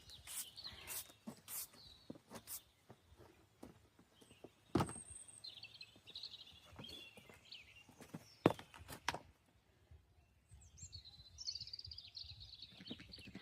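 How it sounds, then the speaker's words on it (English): Birds chirping and trilling at a distance in short high phrases in the Scottish wilderness in winter, mixed with frequent nearby clicks, knocks and handling noises. "How lucky am I to listen to these birds?"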